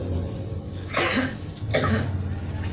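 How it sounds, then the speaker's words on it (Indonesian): Two harsh coughs about a second apart, close and fairly loud, over a steady low background hum. "termasuk yang lagi batuk sebelah saya"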